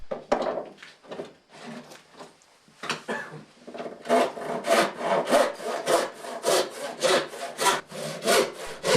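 A handsaw works through a thin wooden lath strip for a traditional wooden lobster pot, starting with a few hesitant strokes, then settling into a steady, rapid back-and-forth rasp close by.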